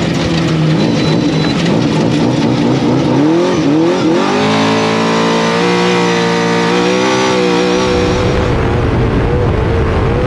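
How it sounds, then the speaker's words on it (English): An off-road race truck fitted with King Shocks drives fast. Its engine roars loud and continuous, and the pitch climbs and shifts as it revs through gears, with no voices. "Our truck with the King Shocks and Foddy and Henry helping us set it up, our truck works phenomenal"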